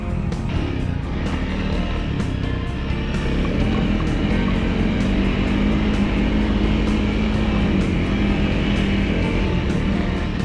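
A Honda CRF300L motorcycle rides off-road with a loud, steady engine drone and rushing wind noise from up close, broken by occasional knocks and bumps along the trail.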